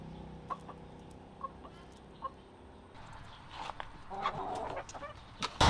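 A Rhode Island Red hen gives soft, scattered clucks at a low level, with more frequent, busier clucking and fowl chatter rising toward the end.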